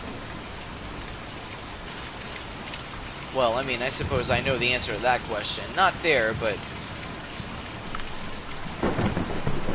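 Steady rain with rumbling thunder in the video game Kentucky Route Zero fills the background while someone speaks briefly over it.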